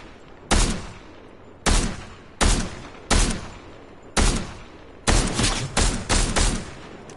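Gunfire in Fortnite: seven loud, sharp shots ring out, spaced about a second apart at first, then coming in a quicker cluster near the end, each with a short decaying tail and no talk.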